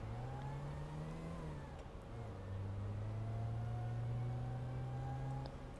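A car engine in GTA 5 revs with a clear, tonal whine that dips, then climbs and holds at a higher pitch, loud and close with no talking over it.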